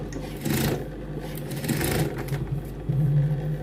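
A sewing machine stitches a trouser pocket in short bursts of fast mechanical whirring, about three runs separated by brief pauses. Close and fairly loud, with no speech.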